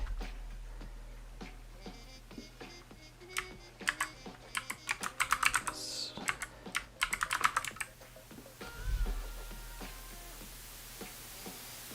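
Rapid clattering keystrokes on a computer keyboard, close and fairly loud, in irregular bursts that thicken into a dense flurry midway before thinning out, over a low steady hum with no voices.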